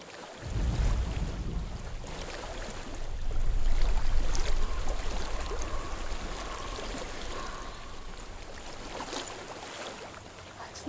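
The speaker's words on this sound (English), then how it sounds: "I hear water." Flowing water in the game Hellblade: Senua's Sacrifice, a steady broadband rush of a stream under wind, continuous and moderately loud with no speech.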